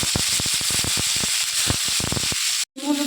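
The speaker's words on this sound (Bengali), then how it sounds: "আমটাকে দিয়ে ভাজা ভাজা করে নেবো" Mango pieces frying with mustard seeds and dried red chili in a kadai, a steady loud sizzle broken by quick crackles and stirring taps, cutting out briefly near the end.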